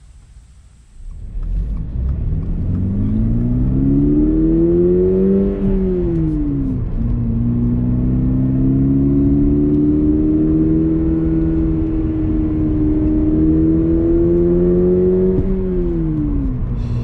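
A Subaru BRZ R grade with a manual gearbox starts up and drives a winding mountain road, its engine droning loudly from inside the cabin, the revs rising, dipping with a gear change, then climbing and easing again.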